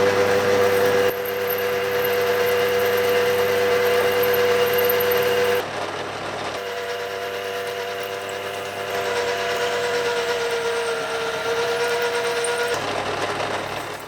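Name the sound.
milling machine drilling a hole through aluminium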